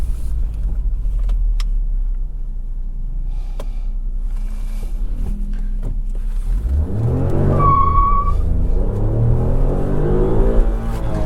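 A Ford EcoSport SE SUV runs steadily with low road rumble, then brakes to a stop with a brief tire squeal and rising noise near the end, no voices over it.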